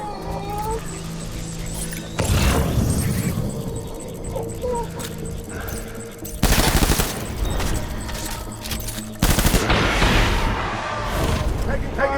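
Bursts of gunfire and battle noise from Death Stranding, with three loud volleys standing out over a constant din of combat and voices.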